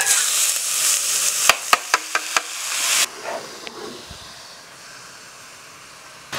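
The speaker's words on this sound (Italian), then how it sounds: "Un po' di olio nella pentola, olio extravergine, oppure anche il burro va molto bene con le zucchine. E ci metto dentro le mie zucchine." Zucchini drop into hot extra virgin olive oil in a pot, a loud sizzle with several sharp clatters before the frying settles into a fainter, steady hiss.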